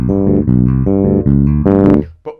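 Close, loud bass guitar plays a short riff of plucked, sustained notes, the G fretted with the third finger, ending with a brief slide and a fading final note.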